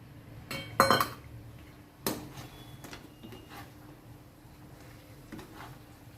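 Chicken strips for restaurant-style chicken majestic are stirred in a pan with a few loud metallic clinks and scrapes of a utensil against the pan, then quieter shuffling over a low background.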